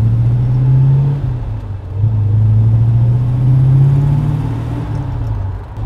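A deep, throaty old car engine with a custom-built exhaust and no H-pipe or X-pipe rumbles steadily nearby, a low exhaust drone rising and falling slightly as the throttle shifts.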